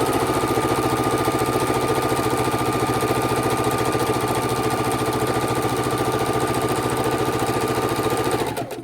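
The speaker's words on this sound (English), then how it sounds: "And we start sewing them together" A sewing machine stitches quilt fabric scraps together, running continuously with a fast, even mechanical whir and rhythmic needle chatter close by, then slowing and stopping at the very end.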